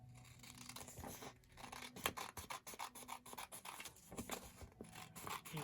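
Ledger paper being cut down on a paper trimmer: quiet, repeated rasping and rubbing strokes of the blade, close by, with a faint steady tone underneath.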